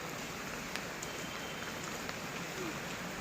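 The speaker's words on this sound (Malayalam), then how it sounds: "നല്ല മഴയുണ്ട്" Steady rain falling outside a house, a continuous even patter and wash of drops on surfaces, moderately faint and uninterrupted throughout.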